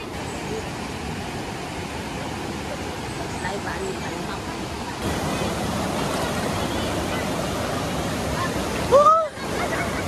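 Bao-Bao Falls in Diatagon, Lianga, Surigao del Sur gives off a steady, broad rush of falling water that fills the whole scene and gets a little louder partway through, with a brief voice near the end.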